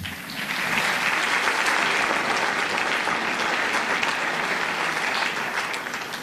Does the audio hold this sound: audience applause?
yes